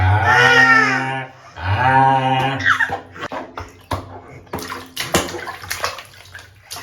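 Water splashes and pours as a baby is bathed; a baby cries loudly at first, then irregular splashing and sloshing continue.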